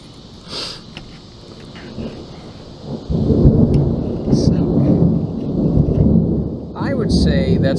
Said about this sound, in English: It's thundering, it's kind of cool.